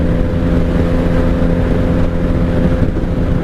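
Engine of a 1997 Honda Magna VF750C motorcycle, running on bad fuel out of the carbs, droning loud and steady at highway speed with wind roar, its hesitation barely evident in the sound.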